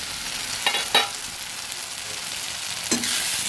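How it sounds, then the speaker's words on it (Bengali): Spices and tomato fry in oil in a covered pan for a fish-head murighonto, giving a steady, soft sizzle, with a few brief scraping stirs and a lid or utensil clink near the end. "মশলাটা খুব সুন্দর ভাজা হয়ে গেছে"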